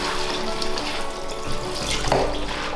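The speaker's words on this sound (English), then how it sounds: "so wash the salt away" Tap water runs steadily into a kitchen sink while salted cabbage is rinsed under it. The splashing is continuous and close, lasting about three seconds, with a brief change in the splashing near the end.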